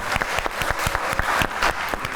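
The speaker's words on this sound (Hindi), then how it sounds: "तो आपके लिए तालियां हो जाएं।" A studio audience on a television talk show claps in a lively, close burst, individual hand claps distinct within the steady applause.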